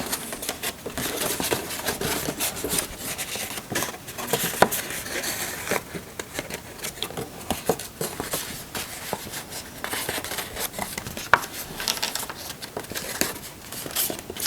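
A paper card is folded and creased down its centre for a pop-up card, giving soft crinkling and scattered light taps and rubs close by, with no talking.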